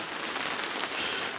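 Heavy rain pours down in a dense, steady hiss of drops on surfaces outside a garage on a muddy day, loud and continuous with no voices.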